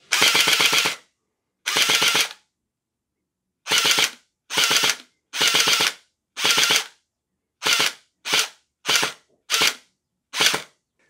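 Splatrball gel blaster upgraded with metal gears and a strong spring, firing full-auto bursts of rapid buzzing shots, about a dozen separate trigger pulls of varying length with silent gaps, loud and close.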